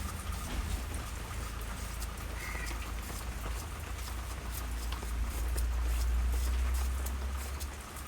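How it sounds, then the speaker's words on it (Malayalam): Heavy rain hisses steadily throughout, with a crow cawing faintly in the background and a low rumble beneath. "ഇവിടെ നല്ല മഴ കേട്ടോ"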